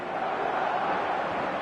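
Stadium crowd noise in a football video game, a dense, steady roar swelling slightly across a short stretch, with no clear talk over it.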